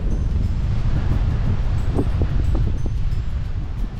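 Steady wind roars across the microphone while a cyclist rides due south into a strong headwind on a cross-country touring trip, a constant loud low rush with faint rustling and no talk.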